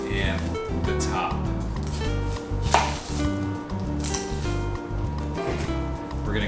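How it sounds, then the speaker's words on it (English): Knife strokes on a cutting board as a chef trims the top and bottom off an onion before caramelizing it, with steady crisp chops over continuous rhythmic background music. "So we're going to cut the bottom of the onion off and the top."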